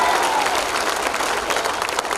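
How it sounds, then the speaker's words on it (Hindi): An audience at a Hindi poetry gathering (kavi sammelan) in Banswara claps loudly and continuously, a thick wash of applause lasting the whole moment. "एक बार जोरदार तालियां बजा करके"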